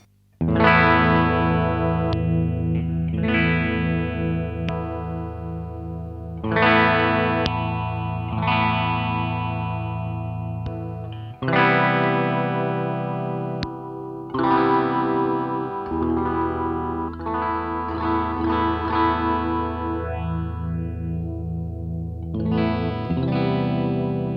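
An electric guitar plays chords and riffs through an Electro-Harmonix Bad Stone phaser pedal, a swirling lo-fi modulated effect, with strummed bursts and sustained notes continuing for over twenty seconds, no voices.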